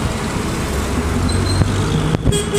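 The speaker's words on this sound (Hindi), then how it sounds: "देख गाड़ी आ गया" Steady street traffic noise with a vehicle arriving, a constant loud roadway rumble and passing engine hum with a brief sharper sound near the end.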